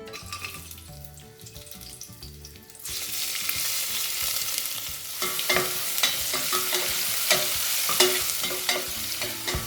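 Cashews and small shallots fry in hot ghee. A quieter hiss starts, then a louder, dense sizzle takes over, with frequent clicks and scrapes of stirring throughout.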